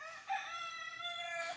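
Free-range native chickens call near their new coop, a rooster's crow holding steady for over a second at moderate distance with no other sounds.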